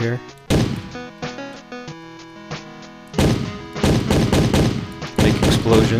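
In a fan-made video game, punchy synthetic explosion and impact blasts go off in quick clusters over a looping musical soundtrack, some bursts coming in rapid, gunfire-like bursts.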